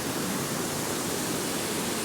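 Rushing river water beside a waterfall at Sannox, an unbroken loud wash of turbulent flow heard up close, alone without speech.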